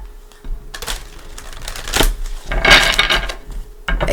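Tarot cards shuffled by hand in bursts of quick riffling flutters and soft taps, close up and fairly loud, with brief pauses between passes.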